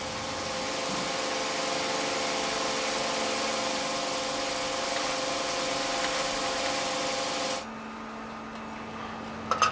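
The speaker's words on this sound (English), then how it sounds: "The billet goes into a machine which squeezes and squashes it even more and cuts it up into hundreds of very thin strips." A pencil factory machine squeezes a wood billet and cuts it into hundreds of thin strips, giving a steady, loud mechanical whir with droning tones that cuts off abruptly near the end, leaving a quieter hum.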